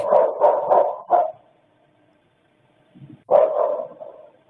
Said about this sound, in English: That's the same bark.